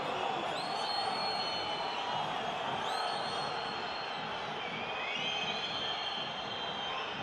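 Rugby stadium crowd at a Toulouse v Bath match, a steady wash of massed noise with whistles and whoops rising over it, distant and sustained, under faint commentary.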